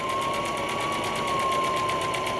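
A sewing machine stitches a tie at a steady, fast pace, its needle making an even mechanical chatter with a constant whine underneath, close and uninterrupted.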